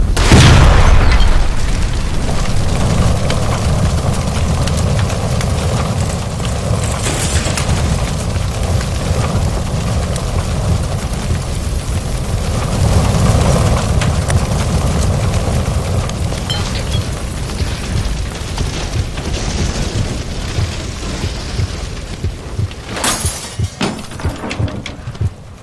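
A gas line explodes inside the Nicholson Electroplating building in the video game L.A. Noire, a loud opening blast followed by a long roaring, crackling rumble of fire and debris with a few later sharp bursts.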